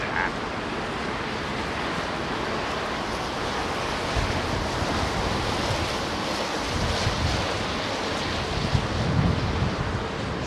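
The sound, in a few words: strong crosswind at London Heathrow Airport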